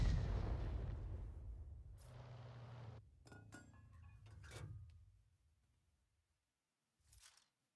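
An artillery shell from a 105 leFH18B2 in a video game lands with a heavy rumbling blast that decays over several seconds, broken by sharp metallic clinks, then a short faint burst after a pause.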